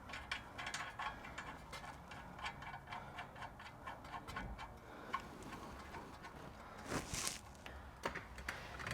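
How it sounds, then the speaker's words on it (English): A hand ratchet with a 19mm socket tightens a tie rod castle nut on a Lexus GX470 during a lift kit install, giving a fast, close run of small clicking ticks in uneven bursts. "Your 19mm socket and tighten everything down"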